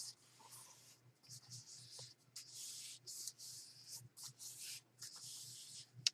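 Paper bags in assorted sizes are handled and rubbed at a craft table while a journal is assembled, producing soft irregular crinkling and scraping bursts, quiet and close, with no clear talking.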